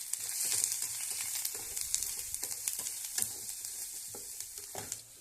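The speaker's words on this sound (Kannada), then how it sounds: "ಇಷ್ಟನ್ನು ಹಾಕಿ ನೀಟಾಗಿ ಫ್ರೈ ಮಾಡಿ." Black pepper powder and coriander powder fry in hot oil with a constant soft sizzle, while frequent spoon scrapes and taps land close by for about five seconds.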